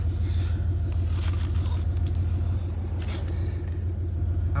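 A truck engine idles close by with a steady, deep low rumble and a faint rhythmic throb, on a muddy outing at the end of hunting season.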